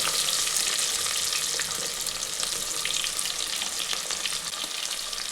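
Chopped shallots sizzle in hot oil with garlic and popped mustard seeds while a fish curry is started. The frying hiss is loud and steady throughout, with faint stirring and no voices.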